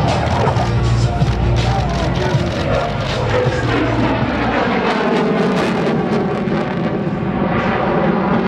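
An F-16C Fighting Falcon fighter jet, landing gear down, approaches the runway to land at an air base show, its loud, steady engine roar filling the whole stretch with a faint crowd murmur beneath.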